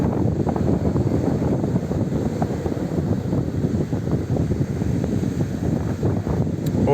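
Strong wind blows across the sea on a blustery beach day, buffeting the microphone in a constant broadband roar with no talking.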